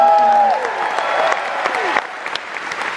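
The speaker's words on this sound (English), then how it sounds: "Can we get a round of applause for" A live show audience in St. John's breaks into loud, close applause, opening with a high whistle and cheer before settling into a dense wash of clapping that slowly eases.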